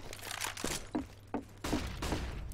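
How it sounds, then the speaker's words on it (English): Gunfire during a professional Counter-Strike match between TITAN and PENTA Sports: several sharp, separate shots with broadband crack, spaced irregularly over steady background game noise. "A couple of team damage bullets coming in as well."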